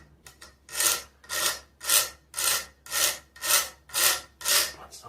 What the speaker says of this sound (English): I'm just going to try to file it and get some of the rough edge off of there.